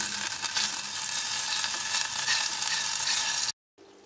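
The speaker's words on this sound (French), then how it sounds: "je fais fondre mon beurre." About 60 g of butter melts in a hot pan, giving a loud, steady hiss and crackle that runs continuously before cutting off abruptly near the end, with no voices.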